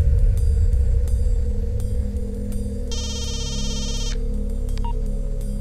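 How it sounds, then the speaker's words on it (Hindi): A telephone rings through a handset after a number is dialed in a dubbed Hindi thriller, a burst of repeated electronic ring tones heard over a steady low hum and faint background clicks. "लास्ट कॉल जिस नंबर से आया था उसे डायल करो।"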